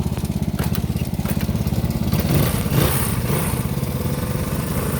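A 1971 or 1973 Honda SL 125 motorcycle engine runs steadily close by, with a rapid, even single-cylinder putter and a slight rise in revs partway through. No voices.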